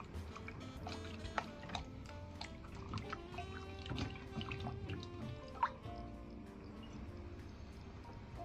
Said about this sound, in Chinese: 接着把佛手瓜放入水中清洗干净